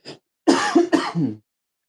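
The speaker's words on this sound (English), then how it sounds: "I got a cough." A short throaty cough followed by two heavier coughs in quick succession, close and clear against silence.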